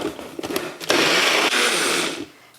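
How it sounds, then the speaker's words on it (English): A kitchen blender purees mangoes for gelato, starting with a few short choppy pulses that build into a loud, sustained whir, then easing off near the end. "Now I'm going to add mangoes to the blender"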